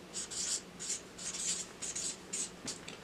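Pen scratching marks under letters on paper, a run of short, quiet strokes in uneven bursts, close to the microphone with no talking.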